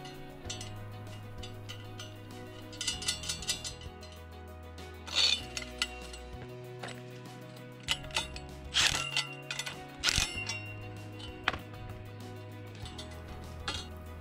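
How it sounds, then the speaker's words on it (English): Flange nuts being tightened on the U-bolt clamp of a wall-mount bracket for a mast pole: sparse metallic clinks and ratcheting ticks, some sharper taps, over a steady low musical backing. "Secure the lower bracket to the mast pole by tightening the two flange nuts on the U-bolt clamp."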